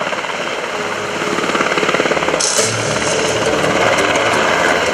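Two UH-60 Black Hawk helicopters flying a demonstration at a military airshow give a continuous, loud rotor drone with rapid rhythmic blade chop that swells slightly partway through.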